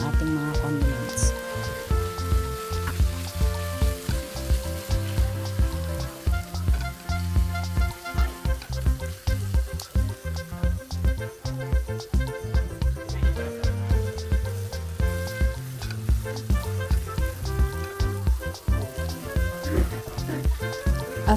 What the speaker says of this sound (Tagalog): igisa na po natin ang bawang at sili.